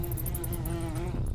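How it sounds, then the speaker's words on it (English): Swarming bugs in a video game make a close, continuous buzzing drone with a rough, fluttering texture that holds steady for its whole short length. "you get assaulted by bugs, which is gross"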